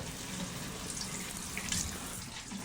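Tap water runs steadily to fill a baby's bath, a continuous broadband splashing rush that stays fairly even for the whole stretch with no voices over it.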